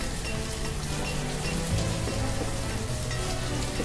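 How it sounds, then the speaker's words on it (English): Steady rain falls in the village-building game Banished, a soft, even hiss of drops with no pauses, heard alone without talk. "Again with the rain."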